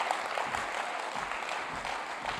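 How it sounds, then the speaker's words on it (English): Conference audience at an investment event in Africa clapping steadily, a dense continuous applause filling the room without pause. "Mark Franklin, please a round of applause."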